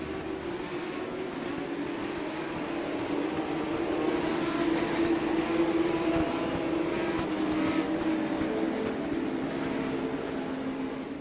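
Stock cars rolling slowly around the Stafford race track under a pace car to warm their tyres, heard as a steady, continuous engine drone at moderate distance with no breaks across the whole stretch.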